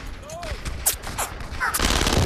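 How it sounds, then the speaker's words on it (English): Machine gun fire in the World War II shooter Brothers In Arms, rapid overlapping bursts mixed with battle noise and a voice speaking over the gunfire, loud and dense throughout. "I'm gonna get on this machine gun right here."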